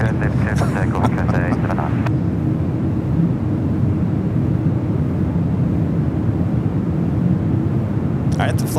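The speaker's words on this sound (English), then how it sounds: "All right, the flight heading back to Hong Kong in this A350-900. Let's hear those sounds." Cathay Pacific Airbus A350-900 heavy taking off from San Francisco airport, a loud steady jet engine roar in the distance, with voices over it at the beginning and again near the end.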